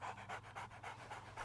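A dog pants in the anime Vinland Saga, with quick rhythmic breaths repeating about eight times in a steady series, close and fairly loud over a low background hum.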